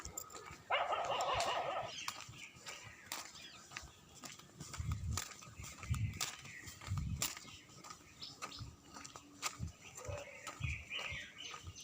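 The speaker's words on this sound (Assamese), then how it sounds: "কিমান কুকুৰ ভুকিছে।" Many dogs barking along a road on a morning walk, scattered barks from several animals at mixed distances, some near and some farther off, recurring irregularly throughout.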